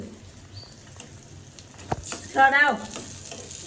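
Eggs fry in a pan with a soft, close sizzle and light crackle; a short voice sounds partway through.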